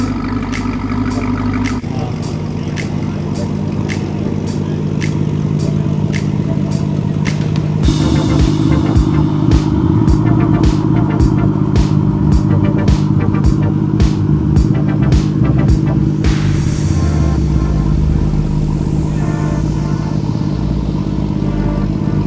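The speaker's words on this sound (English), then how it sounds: "It's almost like he revved it on startup, but I know that's the car, that's just how it is." A loud American muscle car engine at a Cars and Coffee meet in Seattle rumbles and revs hard in repeated bursts, close and dominant, with the tone rising and falling across the burst.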